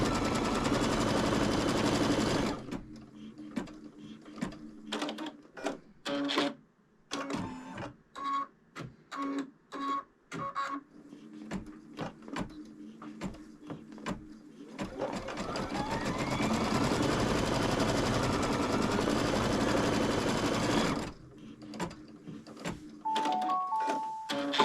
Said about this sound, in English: it's now ready to start stitching my placement line